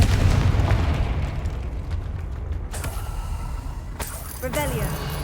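Confringo blasting curse explosions in Hogwarts Legacy, two sharp bursting blasts about a second apart over a low rumbling ambience, with a voice speaking just before.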